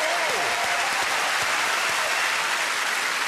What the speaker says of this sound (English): Can I please get a big round of applause, first of all, for every single performer you've seen tonight?